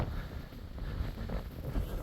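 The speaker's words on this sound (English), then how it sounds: "it's getting a lot windier up here" Gusty wind roaring and buffeting the microphone on a New Zealand mountain near Tongariro, a low rumbling rush rising and falling with no voices.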